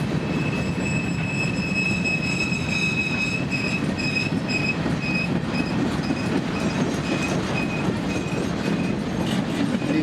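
A model train on a prototype-operations layout rolls along steadily and slows, with a continuous wheel rumble and a repeating high squeal, fairly close and with no voices.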